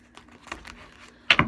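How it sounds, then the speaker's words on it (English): A deck of tarot cards is shuffled indoors, with soft papery riffling building to a brief, louder flurry of card snaps at the end. "I'm just going to give them a quick shuffle on camera for the viewers"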